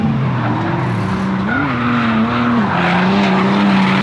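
BMW drift car on an airport track, engine roaring loud and close as the tires squeal in a sustained, wavering screech that rises and dips throughout the slide.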